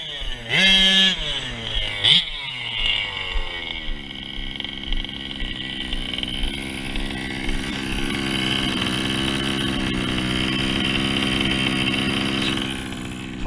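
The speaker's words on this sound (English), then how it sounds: "the true way to test these engines is to put them in a heavy platform like this with four-wheel drive" An OBR SS 34 engine in a heavy four-wheel-drive vehicle, a couple of sharp, loud rev blips followed by a sustained high-pitched wailing roar that holds steady.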